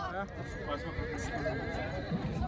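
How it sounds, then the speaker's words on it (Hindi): Horses at a horse auction and exhibition in Dal colony, Bemina, with a neigh and hoof sounds mixed under nearby talk and crowd noise. "आप देख लीजिए कितने सारे घोड़े"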